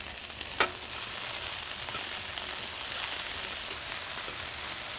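Red bell pepper stir-frying in a hot pan gives a steady, continuous sizzle with a brief louder crackle near the start, close and alone.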